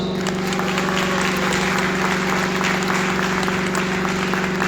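An audience in a university hall applauds a speaker, a continuous wash of clapping heard over a steady electrical hum.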